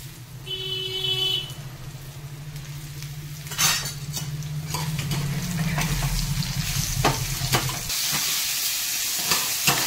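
Cashews and raisins frying in a pan for raw mango chutney, with a steady sizzle and soft stirring and clinks of a utensil against the pan, close and continuous, and a brief hum early on.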